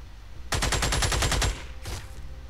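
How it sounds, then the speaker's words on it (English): Light machine gun fire in the Xenonauts video game: a rapid burst of about ten shots lasting roughly a second, followed by a fainter short echoing burst, alone and fairly close. "Now we can get a light machine gun out somewhere."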